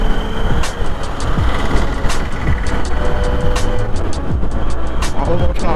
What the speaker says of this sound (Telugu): లారీ వచ్చింది.